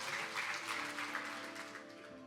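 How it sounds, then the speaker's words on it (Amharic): A training-session audience gives a short burst of applause, faint and distant, clapping steady for a couple of seconds and easing slightly at the end. "አረፍ በሉ፣ አጨብጭቡላቸው ባካችሁ።"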